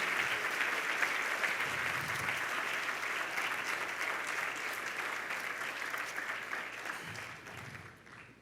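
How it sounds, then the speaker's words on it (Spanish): A church congregation claps together in a sustained, dense round of applause that holds steady and then gradually tapers off, heard from a moderate distance. "Yo creo que eso merece un aplauso más fuerte."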